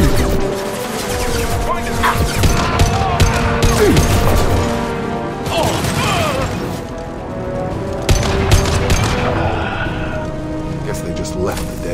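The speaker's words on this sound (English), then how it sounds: "The blue suns and Vorcha shooting anything that moves." Gunfire from Blue Suns mercenaries and Vorcha in the Mass Effect video game, a dense rattle of shots and crashes running the whole time, with game voices talking over it.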